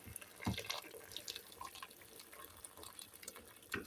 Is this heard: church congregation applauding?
no